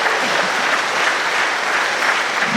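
An audience at a 2016 community gathering in Conthey applauds the catering team, a dense, steady wash of clapping that holds at an even loudness from start to finish with no voices over it.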